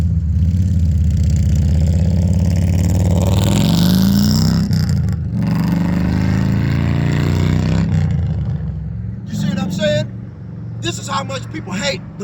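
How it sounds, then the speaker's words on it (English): A car passing by revs its engine, the tone climbing and then fading over several seconds, with voices present alongside it. "They'll come by here and rev up their car engines, motorcycles, and all kind of shit, man."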